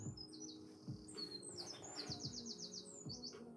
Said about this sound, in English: We heard the birds for confirmation.